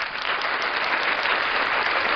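An audience gives steady, dense applause at a music session, loud and even throughout the short burst with no pause.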